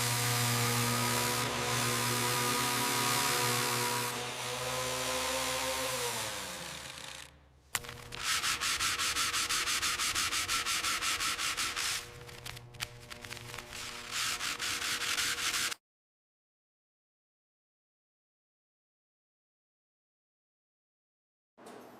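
Sanding body filler over dents on the fender of a 1969 King Midget car: continuous, loud abrasive rubbing for about fifteen seconds with a brief break partway through, then silence.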